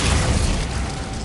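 A Confringo fire spell blast from the Hogwarts Legacy video game, a dense, loud burst with a heavy low boom that stays churning through the whole brief moment, with no pause.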